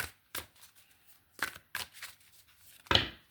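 Quick bursts of tarot cards being shuffled and riffled, several separate flurries with short pauses between, fairly close and moderately loud.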